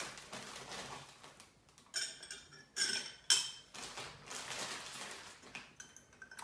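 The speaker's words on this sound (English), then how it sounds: "Then we're just going to add a little bit of ice." Ice cubes dropped into a glass for a non-alcoholic Pink Preacher cocktail of tea, wine and Cedar's Crisp, a few bright clinks and clatters in separate bursts against a quiet room.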